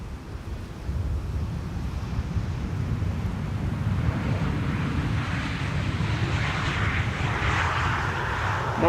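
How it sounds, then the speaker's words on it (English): A KLM Embraer E2 jet arriving from Brussels on approach to land at Schiphol gives a steady, broad jet roar with wind noise, holding loud and continuous throughout. "This is KLM flight 1704, E2 Embraer, arriving from Brussels"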